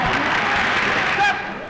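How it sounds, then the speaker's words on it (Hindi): Brief burst of applause from an audience at a Hindi stage performance, dense clapping for under two seconds, loud and close. "तालियां।"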